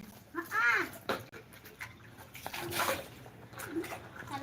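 Cold water splashes and sloshes in uneven bursts during a bath in the rainy season, close by, while people talk over the sound of the water.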